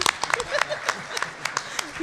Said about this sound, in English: People want to clap today.